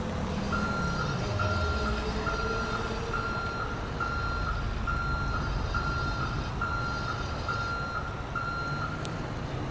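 A heavy-duty tow truck backing up in GTA 5 sounds a steady series of evenly spaced reversing beeps over a constant low engine rumble, with no talking.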